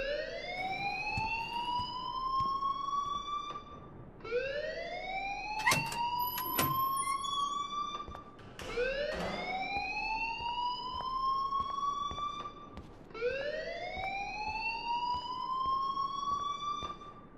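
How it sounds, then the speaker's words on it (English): A school alarm in the video game Life is Strange Remastered wails in long rising sweeps, four repeated cycles of a loud electronic siren, with a few sharp clicks between sweeps. "please turn off that alarm since that's your job."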